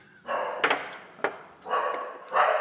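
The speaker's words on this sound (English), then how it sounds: "I think we got some dogs in here as well." Dogs barking in short bursts in a stone parish church interior, the barks sharp and fairly close with a couple of louder yelps breaking through.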